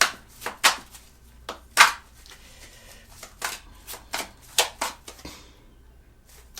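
Tarot cards are shuffled by hand in a series of sharp riffling slaps and flicks, uneven in rhythm and close up, with no talking.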